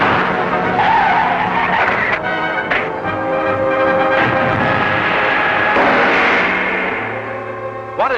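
A car in a 1942 radio serial speeds along with its tires skidding and squealing, loud and close, the engine roaring and pitching around through repeated screeches before settling into a lower drone, no speech.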